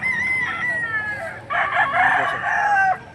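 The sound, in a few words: rooster crowing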